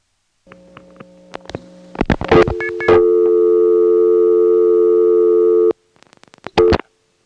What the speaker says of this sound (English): Here's what happens when you dial 5 from the East Lake 37 or Drake step.